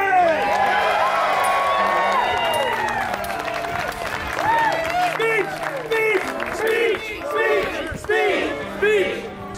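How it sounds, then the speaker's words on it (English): A crowd at an airsoft game event roars with cheering and shouting, with clapping and voices blending into a loud, lively swell. "please give a round of applause for your new mayor"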